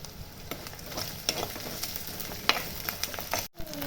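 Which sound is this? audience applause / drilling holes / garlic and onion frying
garlic and onion frying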